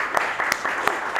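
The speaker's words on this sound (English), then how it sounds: "big round of applause for everyone in the gallery" A gallery audience applauds in a short burst of brisk, moderately loud clapping with a few sharper claps standing out.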